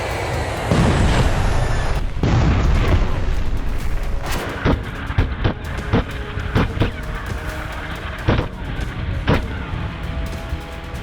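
Heavy booming blasts and sharp bangs from a missile launch and explosions, Iranian missiles fired from tunnels; a loud rumbling roar first, then a series of separate cracking impacts spaced irregularly, no talk.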